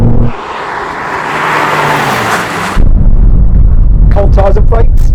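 A car braking hard from 100 mph on cold tyres and cold brakes, a long loud roar of rushing wind and road noise that surges heavier partway through, with a few brief tonal squeals near the end.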